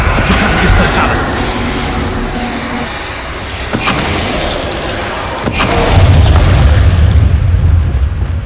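Spell explosions in Hogwarts Legacy: loud booming blasts and bursts, with a sharp hit near the middle and a heavier rumbling blast toward the end, over dense game noise.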